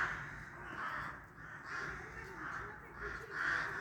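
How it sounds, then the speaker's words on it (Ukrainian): Crows cawing repeatedly from rooftops of houses in Zhytomyr, a dense, restless chorus of harsh calls at moderate distance, rising and falling with a louder burst near the end. "Не знаю, чомусь вони якісь такі кричать, сидять. Такі воронки."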